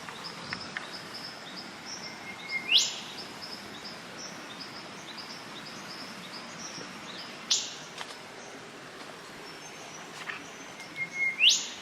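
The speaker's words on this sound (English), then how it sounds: "And that's a whip bird. Very distinctive sound, isn't it?" A whipbird in the Australian bush gives three sharp, rising whip-crack calls spaced several seconds apart, carrying clearly over a quiet, steady backdrop of insects and faint birdsong.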